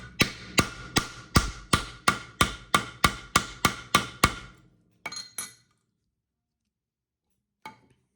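Metal leather domer tool hammered to round the edges of a leather keychain: about eleven sharp, evenly spaced close strikes, then a few softer taps and one faint final knock after silence.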